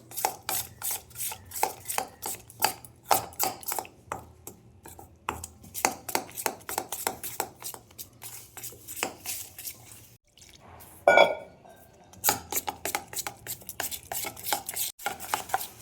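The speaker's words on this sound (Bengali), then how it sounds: "একটা ব্যাটার তৈরি করে নেবো অল্প অল্প করে জল দিয়ে" Bread pakora batter beaten by hand while water is added bit by bit, a fast steady run of wet slapping, tapping strokes against a bowl, close and fairly loud, with a short pause before the rhythm resumes.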